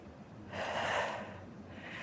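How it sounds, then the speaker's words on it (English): A deep inhale during a leg-extension exercise, quad engaged, taken as a single close, breathy rush of air lasting about a second before easing off into quiet room tone. "All right, deep breath."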